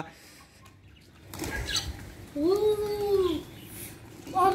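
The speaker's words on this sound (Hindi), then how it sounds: "ब्लैक झंडू तुम्हारे भाई का फेवरेट कबूतर है" A brief burst of a pigeon's wing flapping on a rooftop, then a bird's rising-and-falling call and a faint chirp, heard close against a quiet outdoor background.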